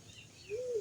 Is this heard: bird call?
yes